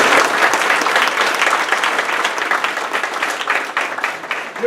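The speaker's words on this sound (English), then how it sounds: "Give him a round of applause, please." An audience at a business lunch gathering breaks into sustained applause, a dense wash of many hands clapping steadily for several seconds with no voices on top.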